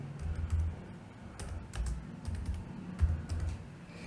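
A parameter name is typed on a computer keyboard in quick, irregular bursts of soft, close key clicks with brief pauses, alone and without speech.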